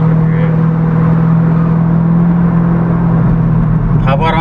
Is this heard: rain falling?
no